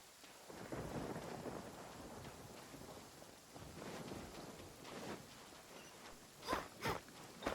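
Thunder rolls in Genshin Impact through a steady rain, long low rumbles swelling and fading before a few sharper cracks near the end, distant-to-close and fairly quiet overall.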